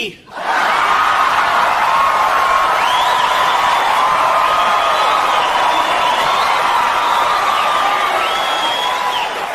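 A stand-up comedy crowd claps and laughs together in a loud, sustained roar of applause and cheering that fills the hall without a break.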